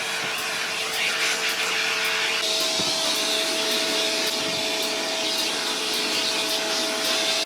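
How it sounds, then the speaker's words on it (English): A vacuum cleaner sucking dust out of a PC runs steadily and loudly throughout, with a constant whining hum and a broad rushing roar of suction. "it's time to vacuum up all this dust"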